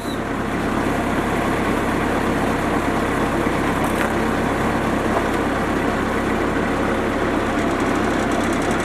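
A Bobcat SS175 skid steer engine runs steadily at close range, a continuous loud mechanical drone with a low rumble and no speech.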